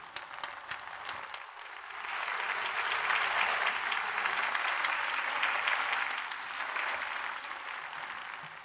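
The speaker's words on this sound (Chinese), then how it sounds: "让我们用掌声请他的雕刻者苏和上台领奖" An audience applauds as the bronze-prize winner of a carving competition is called to the stage, steady dense clapping that swells in the middle and holds for several seconds without talk.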